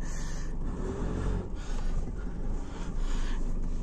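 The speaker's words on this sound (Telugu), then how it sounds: "ఇంజన్ సౌండ్ అయితే క్రేజీ ఉంది" An Isuzu V-Cross 2.5 pickup truck engine drones low and steady while driving, with road and cabin rumble and swelling throttle surges, with no talk.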